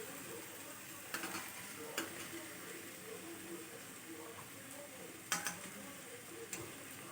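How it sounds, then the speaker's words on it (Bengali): Ground spices with chopped tomato fry softly in oil in a pan, giving a faint sizzle under scattered clinks and taps of a spoon stirring against the pan. "এবার আমার মশলাটা ভাজা ভাজা হয়ে গেছে, তেল ছেড়ে দিয়েছে।"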